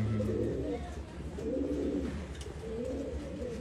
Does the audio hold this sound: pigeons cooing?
yes